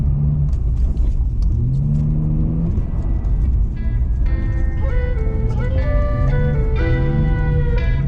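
A BMW E46 engine revs hard while drifting on winter roads, its pitch climbing and falling through repeated surges, loud and close from inside the car, with background voices over it.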